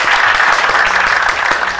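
A short, loud burst of dense clapping, added as an applause effect on a Brazilian banking podcast, continuous and even across the brief moment without talk over it.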